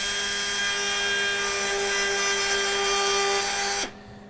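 Power saw or cutter trimming a 28 mm trimmable nail during knee surgery, a steady high-pitched whine held for nearly four seconds before cutting off abruptly, with no talking.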